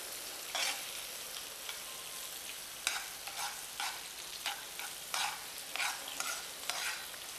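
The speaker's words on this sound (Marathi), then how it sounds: "पूर्ण तिखट मिठामध्ये तुमचा कांदा छान परतून घ्यायचा आहे" Onion sautéing in a pan with red chili powder and salt for Chinese-style chicken chili, a soft continuous sizzle broken by repeated scraping stirs of the spatula, with no talking.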